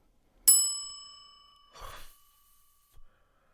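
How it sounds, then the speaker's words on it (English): A single bright ding from a desk bell at an old turn-of-the-century hotel's check-in counter rings out and decays slowly over about a second, followed by a soft rustle and a faint knock. "You've literally only just pushed the bell."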